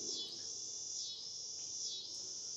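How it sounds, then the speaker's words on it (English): Cicadas chirp outdoors beside a reptile collection, making a faint, continuous high buzz that swells and eases in slow pulses. The sound sits in the background, and no voices are heard. "You can hear the cicadas in the background."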